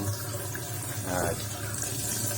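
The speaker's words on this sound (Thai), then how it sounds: "ก็เดี๋ยวเราลองเปิดน้ำดูครับ" Water runs steadily from a homemade DIY faucet, a soft continuous splashing hiss heard close up under a quiet background.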